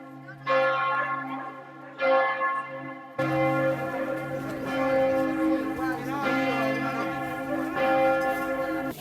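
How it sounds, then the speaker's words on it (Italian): Duomo cathedral bells ringing in a slow, resonant sequence of strikes, each tone lingering and overlapping, heard from a moderate distance in South Tyrol at Christmas. "Sono le campane del Duomo."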